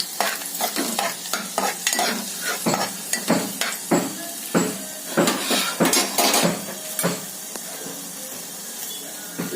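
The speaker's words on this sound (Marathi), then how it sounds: "त्याच्यात थोडा कढीपत्ता टाकू, थोडी लसूण, ती खरपूस थोडी भाजून घ्यायची आहे" Curry leaves and garlic fry in hot oil with a bright, continuous sizzle, broken by repeated scraping stirs of a spoon against the pan at an uneven rhythm, close and fairly loud.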